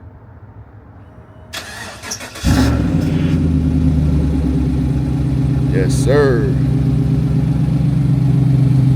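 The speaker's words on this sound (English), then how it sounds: "We gonna get this cold start in." A 2016 Chevrolet Silverado pickup engine cold start with an unfinished exhaust: it cranks briefly, then catches and settles into a loud, steady rumbling idle; someone speaks briefly over the engine.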